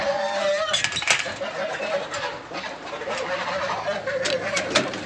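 A hen in a village yard is struck and squawks and clucks in agitated bursts, close by, with sharp clinking knocks and faint background activity.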